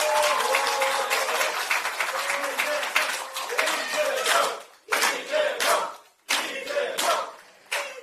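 Crowd at a Democratic Party political rally in South Chungcheong, South Korea, applauding and cheering loudly and continuously, with shouts rising over the clapping, then briefly dropping off and surging again in short bursts.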